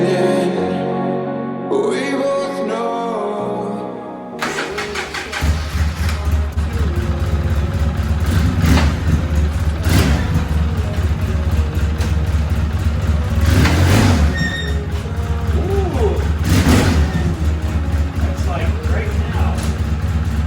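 A 2005 Polaris Sportsman 700 ATV engine runs on a test ride, revving up and down loudly and close by for most of the stretch, with a few sharp surges.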